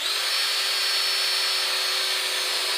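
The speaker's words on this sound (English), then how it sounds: "Start a little bit of a hole, real shallow, 1/16 of an inch." A power drill bores a shallow, steeply angled pocket hole into a wooden board, giving a steady high-pitched whine with a rough grinding edge that runs unbroken and loud for the whole stretch.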